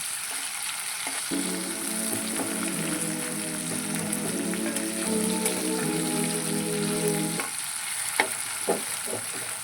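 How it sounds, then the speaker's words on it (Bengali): Chopped onion and tomato fry in a pan for a fish curry while a spatula stirs them, a steady moderate sizzle with scraping strokes throughout, briefly quieter near the end, with no voices. "কুচিয়ে রাখা পেঁয়াজ এবং টমেটো ভালো করে খুঁটির সাহায্যে নাড়াচাড়া করে পেঁয়াজ আর টমেটোটাকে ভালো করে মন করে নেব"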